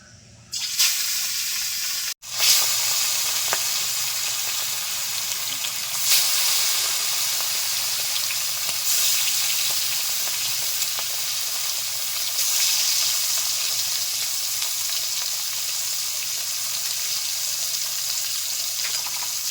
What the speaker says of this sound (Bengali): তেল গরম হয়ে গেছে হলুদ লবণ মেখে রাখা মাছগুলোকে ভেজে নিচ্ছি